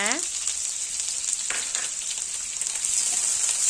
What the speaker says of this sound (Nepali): प्याजलाई चाहिँ एकछिन फ्राई गर्नुपर्छ।